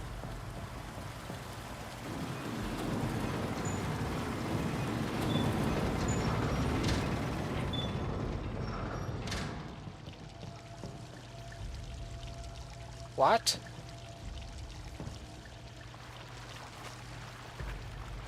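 Heavy rain pours down in a dense, steady roar that gradually eases, with a short voice cutting in briefly near the end.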